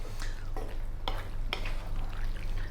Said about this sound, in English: Stir in all the time just to heat up the pasta.